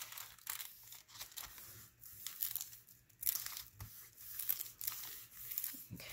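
Paper folded over along a ruler at a crease for a handmade journal pocket: close, quiet crinkling, rustling and sliding in irregular bursts, with no talk.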